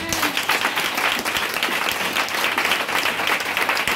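An audience at a French-language church sermon applauds steadily and loudly, with dense, even clapping that fills the whole moment and has no pause.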